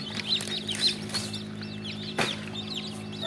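Tiger breed chickens cluck repeatedly at a poultry farm in Bakshiganj, Jamalpur, with many overlapping calls at close range and a sharp knock partway through.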